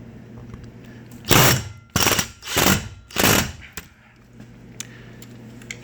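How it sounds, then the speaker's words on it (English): A power drill driving a screw into a garage door, four loud, close bursts of whirring, the first brief and the others longer, with short pauses and faint clicks between them. "So put the first screw somewhat in, and then just drill it on in."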